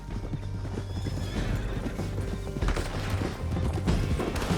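Rapid hoofbeats of a galloping horse with a loud neigh in the video game Red Dead Redemption 2, close and energetic, layered over rumbling background music.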